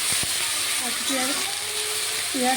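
Egg and potatoes fry in a pan with a steady sizzling hiss close by, while a voice talks over the cooking.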